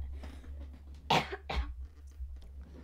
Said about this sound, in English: Sorry, I just have a little bit of a cough.